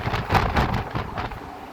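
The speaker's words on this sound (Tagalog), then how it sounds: "Lakas na hangin." Strong wind gusts buffet the microphone in a steady, rumbling roar, rising and falling briefly, in stormy weather by the sea with big waves.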